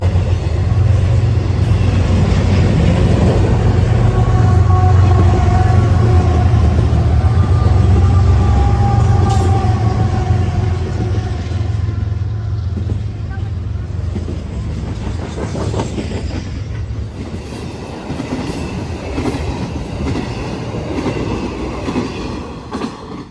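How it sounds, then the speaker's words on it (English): A BNSF intermodal freight train led by four GE locomotives rolls steadily past close by, with a continuous loud rumble of engines and wheels and a rhythmic clickety-clack of cars over the rails. "meeting this intermodal would be the next intermodal, ZSSECHC, out of South Seattle, Washington, down to Cicero, Illinois, with 4 BNSF GEs"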